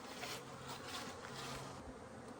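Honey bees fly in large numbers around hives being readied for California almond pollination, making a steady, close buzzing drone that fills the air with no talking.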